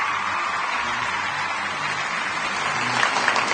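Studio audience at a TV show applauding on the host's cue, a continuous mass of clapping at steady level that swells slightly toward the end.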